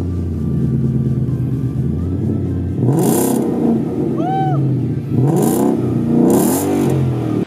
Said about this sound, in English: This is what the car sounded like, for those of you who might know, when I first installed my X-pipe.